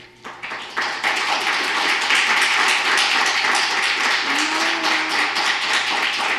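Audience applauding at a town council meeting, starting with a few scattered claps that quickly build into sustained, loud applause from a packed room, with a faint voice briefly rising underneath.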